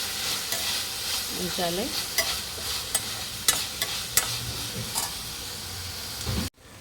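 Tomatoes cooking down in a pan for Rayalaseema puffed-rice upma sizzle steadily while a spoon stirs and scrapes in a run of sharp clinks; one brief spoken word near the end, then an abrupt cut.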